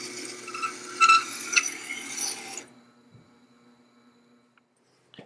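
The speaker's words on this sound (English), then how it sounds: "After we're done grinding vertically, I'll move the plate to the strop wheel." A bowl scraper blade held against a sharpening wheel gives a close, rough grinding and scraping rasp with a few sharper bursts, then stops abruptly, leaving a faint hum and a small click at the end.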